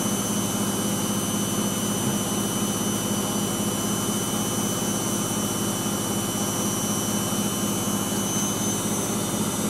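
A Servis Quartz Mk601 washing machine spins at speed with a loud, continuous whine and roar that holds steady throughout, no voices.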